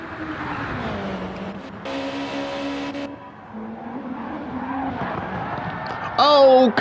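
Race car spinning out on a bumpy turn during a Gran Turismo-style Gr2 league race in a racing video game, engine note dropping and wavering before a loud tire squeal near the end, with a commentator talking over it.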